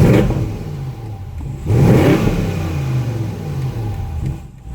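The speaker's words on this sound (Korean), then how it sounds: "머플러 사운드를 들려드릴 텐데요" A 2019 BMW M850i convertible engine revs up and settles in a few swells in normal mode, a steady mid-pitched exhaust drone with no talking.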